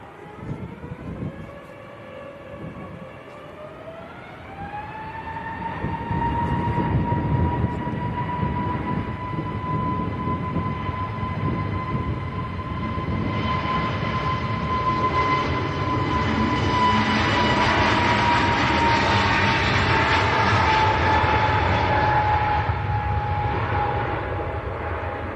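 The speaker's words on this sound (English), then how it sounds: "lined up and ready now is the EasyJet with the paint across the cockpit windows" An EasyJet airliner takes off at Manchester Airport, its engines spooling up from a distant whine into a rising, steady roar that swells louder and broad over about twenty-five seconds, no talk.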